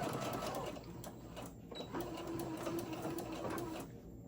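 Sewing machine stitching a Halloween tote bag, a quiet steady mechanical whir with rapid needle clatter running continuously, with small pauses and a brief squeak partway through.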